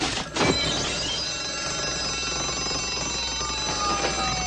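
A telephone ringing in a Maytag washer TV commercial, a sustained bright electronic ring with a sharp onset, steady and close, carrying on for several seconds without talk.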